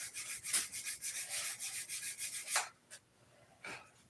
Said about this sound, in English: I just want a couple of swipes inside it